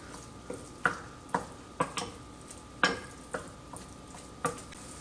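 Mock crab cooking in a pan, with a steady low sizzle under a series of sharp scraping and tapping stirs from a utensil against the pan, spaced irregularly and close by, with no voices.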